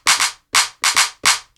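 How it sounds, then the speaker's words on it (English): Four crisp, tight claps hit in quick succession, each a short bright burst, some with a slight doubled flam, dry and close. "So nice, tight clap sound."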